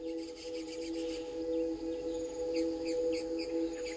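Réunion stonechats give several faint, high 'tec-tec' calls in the Takamaka valley on Réunion. The calls sit over a steady hum from a distant engine or insects, with no talking.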